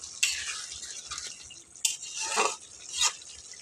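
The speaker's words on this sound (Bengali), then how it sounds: "আমি মাছটাকে মিশিয়ে নেব।" Mourala fish with coriander leaves is stirred in a pan, soft hissing sizzle with a few bright scraping strokes of a spatula, near and quiet, no voices.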